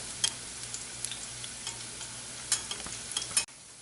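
Bottle gourd koftas frying gently in oil over low heat, a continuous soft sizzle with scattered light ticks and pops as the oil is stirred around them, ending abruptly, with no talk.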